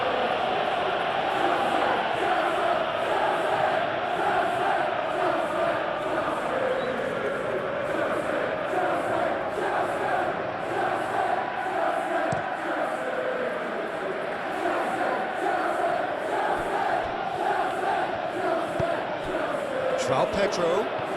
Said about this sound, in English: it certainly got the crowd going